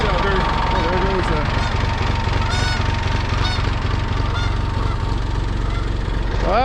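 A goose honks repeatedly at close range, in short bursts scattered over a steady idling farm engine, with a person talking.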